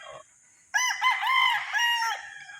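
A street comb rooster crows once, loud and close, a long wavering cock-a-doodle-doo lasting about two seconds after a brief faint call and a moment of quiet.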